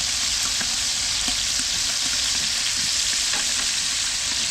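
Bacon frying in a pot for locro, stirred as it cooks: a constant close hiss of sizzling fat with faint scrapes and taps of the spoon, no talking.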